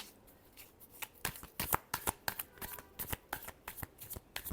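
A deck of tarot cards is shuffled in quick, crisp riffle bursts, a rapid papery flutter repeated in clusters. Close but fairly quiet, with no talking.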